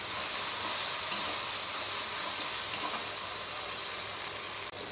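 Cumin seeds sizzle and hiss steadily in hot oil in a pan, a constant bright crackle with no voices, holding at an even level throughout.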